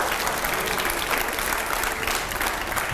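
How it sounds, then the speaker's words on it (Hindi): A studio audience at a televised debate bursts into loud, dense applause, sustained evenly for a few seconds with no voices over it. "पहले जोरदार तालियां हो और हर सवाल पर"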